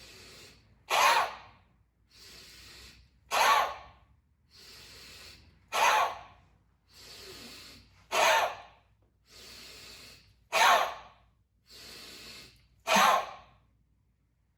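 Forceful exhaled breaths from a breathing exercise that mimes chopping wood with an axe, arms hacking down with each out-breath; about six sharp, loud exhales alternate with softer intakes in a steady rhythm, close and with no talking.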